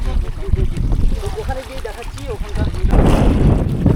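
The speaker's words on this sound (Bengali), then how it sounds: "আমাদের বোট কিন্তু ছেড়ে দিল" A boat pulls away on a river in the Sundarbans, with a steady wash of water and wind rumble that swells louder toward the end, while voices talk over it.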